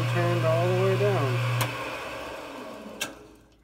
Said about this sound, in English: I have to turn the thickness of a nut down.